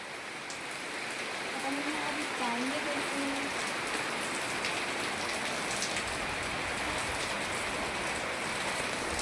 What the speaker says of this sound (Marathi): पाऊस सुरू झालेला आहे बघा, जोराचा पाऊस सुरू झाला आहे.